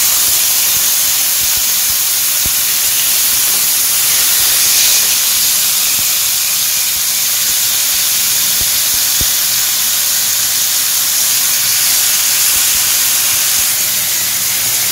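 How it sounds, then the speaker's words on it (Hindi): Thin beef steaks sizzling on a hot grill pan: a loud, steady hiss fills the whole stretch, with occasional soft pops and clicks from the pan. "तो ये देखें स्टेक्स हमारे ग्रिल हो रहे हैं।"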